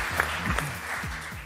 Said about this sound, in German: Dann machen wir nochmal einen extra Applaus für Tusche